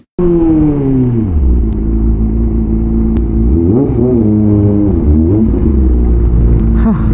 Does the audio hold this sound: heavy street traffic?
yes